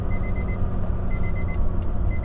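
An alarm beeps in repeated high bursts from the sleeper bunk of a moving truck, sounding steadily over the loud low rumble of the cab on the road.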